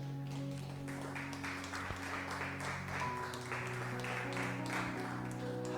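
A church congregation claps together in a steady rhythmic beat, many hands at once, with sustained organ or keyboard tones underneath.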